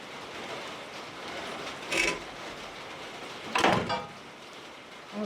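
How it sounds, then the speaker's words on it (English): Heavy rain falls steadily outdoors beside an old New Holland square baler, a dense, even hiss throughout, broken by two brief louder knocks or thumps. "it's raining pretty hard"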